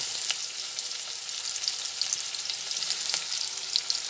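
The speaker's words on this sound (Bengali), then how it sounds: "এরপরে আলুগুলোকে ভেজে নিচ্ছি" Potatoes fry with turmeric and salt in a pan, a dense, even hiss of hot oil with a few faint spatula scrapes, close up and without speech.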